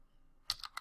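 A few quick keystrokes on a computer keyboard, faint and close, three or four light clicks in under a second while entering a shell command.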